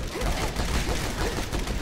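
Gunfire in the video game Final Exam comes as a dense, rapid stream of shots and crackling bursts that stays loud across the whole short stretch.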